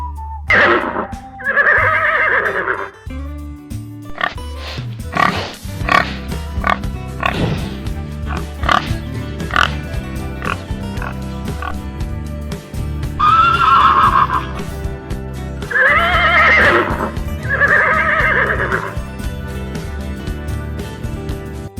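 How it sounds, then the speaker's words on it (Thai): A horse whinnies several times, loud shrill neighs rising and falling, with snorts and blowing breaths between them, close and clear throughout. "เดี๋ยวเราไปฟังเสียงของม้ากันนะคะ"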